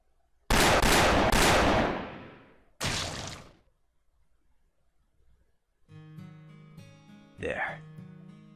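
Gunfire in an anime battle scene, sounding as two loud, dense bursts of shots close by, followed by a soft orchestral music swell with a brief whoosh.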